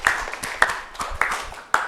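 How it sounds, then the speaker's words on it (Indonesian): A classroom group claps in a rhythmic, unison pattern of sharp beats arriving in short bursts about every half second, close and clear, with faint voices underneath. "Tepuk tangan untuk kita semua."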